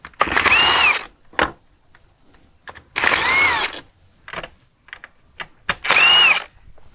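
A power tool spins out 10mm bolts from a panel on a Honda CRF300L motorcycle during a bash plate install, sounding as three loud, close whirring bursts separated by quiet gaps and short clicks.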